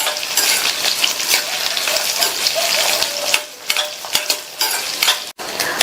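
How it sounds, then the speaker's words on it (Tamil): Peeled, cut potatoes roasting in plenty of oil in a pan for upma, a loud dense sizzle with occasional spoon clinks and scrapes, close by, no voices. "எண்ணெயிலேயே இந்த உருளைக்கிழங்கு வந்து நல்லா ரோஸ்ட் பண்ணிக்கணும்"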